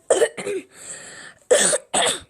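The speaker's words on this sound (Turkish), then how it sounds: "Arkadaşlar öksürdüm." A person coughs several times close up, two quick coughs, a brief pause with a breathy sound, then two more.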